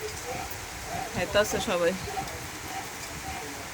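Heavy rain pours down in a steady, close hiss while doves and pigeons feed nearby, and a person speaks briefly over it.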